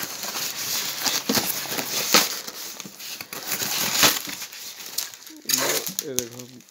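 Cardboard box and plastic packaging of a Bajaj water heater being opened and handled, with crinkling and rustling through the clip, a few sharper crackles, and someone speaking briefly near the end.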